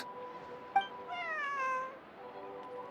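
In a video game, a cat gives a single clear, rising-and-falling meow over a soft sustained music bed, preceded by a short click.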